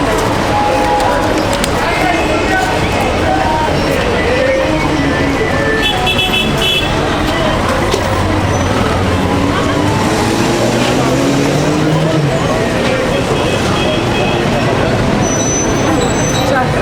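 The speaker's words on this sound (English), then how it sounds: "A little bit of a traffic jam." Traffic jam on a Cairo street near the 6th of October bridge downtown, with a dense constant roar of cars and buses, scattered horn toots, and people talking throughout.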